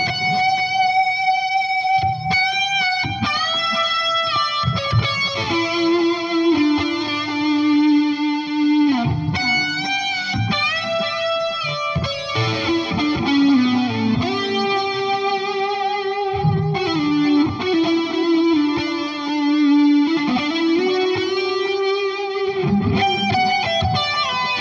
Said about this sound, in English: So it's delay feeding into the verb.